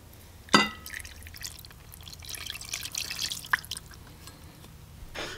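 Coconut cream goes into a bowl for a steamed cassava and taro cake, with soft wet drips and a few light clinks of glass or utensil, heard close up and fairly quiet with no talking.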